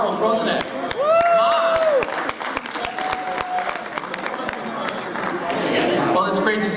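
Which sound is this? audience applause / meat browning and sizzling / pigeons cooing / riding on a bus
audience applause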